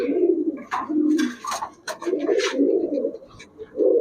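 Palla line pigeons coo in soft, low, repeated throaty phrases at close range, with a few brief higher chirps mixed in and no voices.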